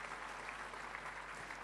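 Church congregation clapping loudly during a sermon, a short, dense, even wash of applause without speech.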